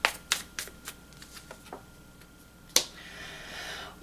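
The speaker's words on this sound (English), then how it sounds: "One more shuffle." Tarot cards are shuffled close by, giving quiet riffling flicks and soft taps. One sharper snap comes near the end.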